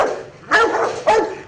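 Rottweilers bark twice, two sharp, loud, close barks about half a second apart, with no other sounds around them.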